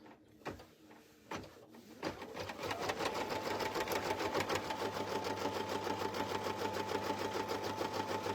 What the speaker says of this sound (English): now I'm gonna tack down what's in the front of my bracelet